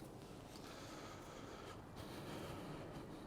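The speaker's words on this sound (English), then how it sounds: "There's a train going past in the background." A train rumbles past in the background near the Leeds and Liverpool Canal, a faint, steady low rolling noise that lasts throughout with no speech.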